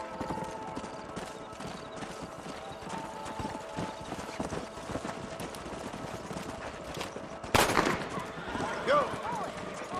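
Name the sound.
horses galloping in Red Dead Redemption video game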